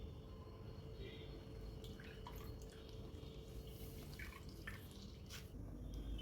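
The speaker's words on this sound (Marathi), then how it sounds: "आता पाण्यातून काढताना असा यातलं सर्व पाणी काढून घ्यायचं" Water draining and dripping from freshly washed grated potato as it is squeezed and lifted out, soft steady drips over a low hum of background noise.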